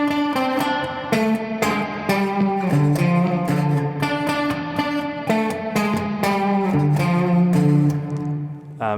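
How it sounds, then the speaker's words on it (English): A distorted electric guitar plays a repeating riff with a gritty, crunchy tone, chords ringing with some reverb, steady and loud throughout. "You can play that with some crunch, maybe with some distortion."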